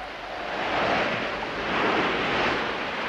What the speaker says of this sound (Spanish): ¡El agua sobrepasa el muro!